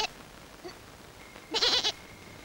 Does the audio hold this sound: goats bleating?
yes